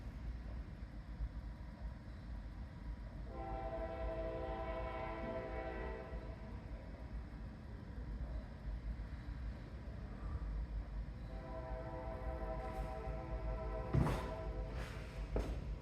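A northbound Norfolk Southern manifest freight train rolls past in Marion with a continuous low rumble, and its horn sounds in two long, distant blasts over the steady rolling noise.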